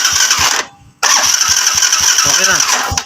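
A Euro 150 motorcycle's electric starter cranks its engine in loud, close bursts with a brief silent gap, then a steady rattling mechanical run resumes.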